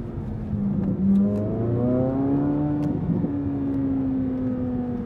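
A Corvette Z06 in track mode with its exhaust valves open, a loud, close, continuous engine note rising and settling through a steady drone, with no talk over it.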